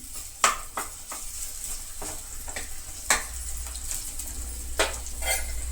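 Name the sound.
ginger garlic paste frying and being stirred in a pan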